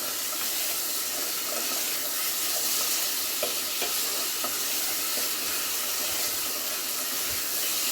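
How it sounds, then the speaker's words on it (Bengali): Chicken pieces fry in oil as they are stirred in a pan for a light chicken and potato curry, with a constant close sizzle and occasional soft scrapes and taps of the spatula. "এভাবে চিকেনটা তেলের মধ্যে কষে নিলে"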